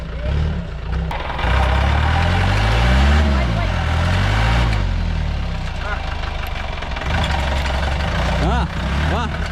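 A vehicle engine idles with a steady low rumble, close by, on the way up to the Valmiki plateau in the Patan area, while people talk over it.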